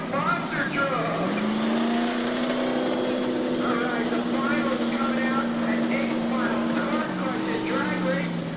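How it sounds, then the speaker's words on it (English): 1992 monster trucks, including a Ford F-250 and Liquidator, roar past the grandstand at Raceway Park with a sustained engine drone that rises in pitch and holds, mixed with crowd noise and an announcer talking over it. "Let's hear it one more time as they come by the grandstand."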